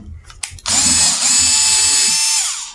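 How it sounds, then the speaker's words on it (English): A power drill bores a hole through a plastic container, a few brief starting whirs followed by one loud, sustained high-pitched whine that winds down at the end, close up and with no talking. "All you're gonna do is go ahead and drill through."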